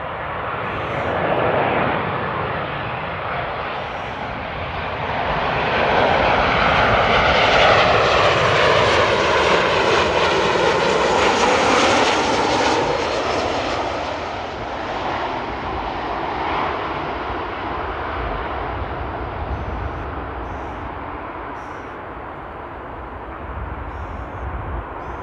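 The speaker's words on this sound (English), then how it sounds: "And we have El Al coming in from Tel Aviv." An El Al airliner inbound from Tel Aviv lands at Amsterdam Airport, its jet engines roaring loudly and steadily, swelling to a peak mid-pass and then easing into a sustained rumble as it rolls out.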